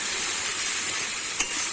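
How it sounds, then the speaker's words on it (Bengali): Ground paste of ginger, garlic, onion, cumin, coriander and chili sizzles steadily while frying in a pan, a bright, even hiss with one brief sharper spatter near the end. "মশলাটা আমি কষিয়ে নেব।"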